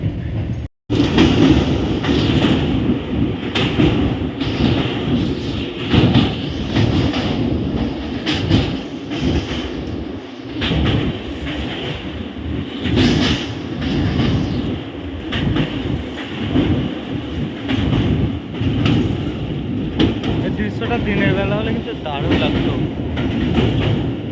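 Rolling of the LHB-coach Jagannath Express (18409) on its run from Kolkata toward Puri, a steady loud rumble with rhythmic wheel clatter throughout, and voices faintly heard at times beneath the train noise.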